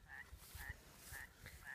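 Frogs croak near water where dogs are splashing, with about four short, evenly spaced calls rising over a low, constant background rumble.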